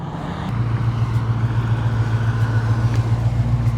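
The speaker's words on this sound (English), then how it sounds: "It sounds almost cooler coming towards you than it does going away because of the turbos" A twin-turbo 5.0 Mustang approaching and rolling past, a deep, steady engine rumble building to a loud, close drone over a few seconds, heard with no talking.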